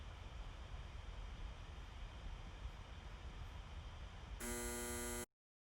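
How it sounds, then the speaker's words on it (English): A harsh electric doorbell buzzes loudly for under a second at the end, cutting through steady room hiss from a desk microphone before everything goes silent. "That was my doorbell."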